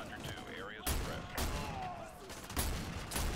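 Gunfire in the game Call of Duty: Modern Warfare 2 Campaign Remastered, several sharp bursts of shots cutting in at intervals over a player's talk and game sounds.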